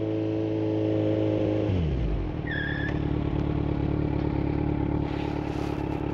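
A Kawasaki Z900 motorcycle's engine drones steadily, then its pitch drops as it brakes hard from 20 mph on the rear brake alone, followed by a brief squealing tire skid and a low idle as it settles.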